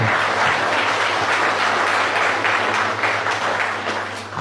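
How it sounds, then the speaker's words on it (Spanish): Sustained applause from a large crowd, loud and continuous clapping with no pauses for several seconds. "fuerte aplauso al Espíritu Santo"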